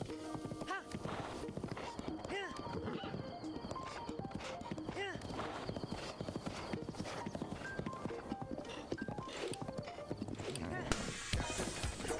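Steady rhythmic clip-clop of horse hooves on the move in Breath of the Wild, continuous throughout, with a voice talking over the riding.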